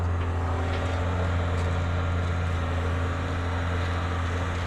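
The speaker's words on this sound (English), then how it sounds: "Bobcat skid steer did pretty good," A Bobcat skid steer pulls apart logging slash piles, its diesel engine humming in a steady low drone throughout, with no voices present.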